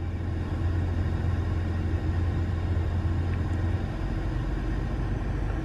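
A 2016 Dodge Ram EcoDiesel truck runs on a dyno, holding a steady low diesel rumble and drone that stays constant, then eases slightly near the end.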